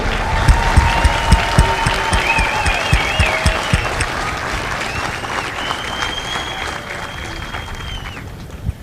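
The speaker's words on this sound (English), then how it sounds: "please join me for a well-deserved round of applause for the drill instructors and families of Bravo Company" Sustained crowd applause from an audience at a Marine Corps recruit graduation for Bravo Company at MCRD San Diego, honoring drill instructors and families; steady dense clapping throughout with a few sharp claps standing out near the start.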